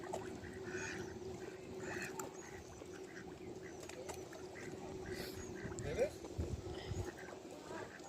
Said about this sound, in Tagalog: Yun ang itik. Kakainin na.